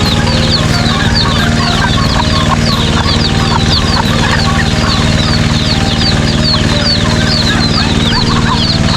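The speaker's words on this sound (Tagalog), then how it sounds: "mga manok na pangsabong" Fighting roosters clucking and calling close by, a busy steady chorus of fowl with a low constant hum underneath.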